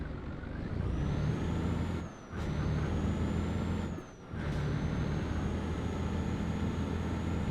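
Truck air brake and handbrake in a trucking simulator game: a steady idling engine drone, broken twice by short sharp hissing releases of air, then continuing.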